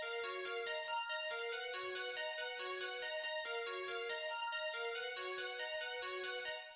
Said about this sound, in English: It's just really a triangle wave mixed with a sawtooth wave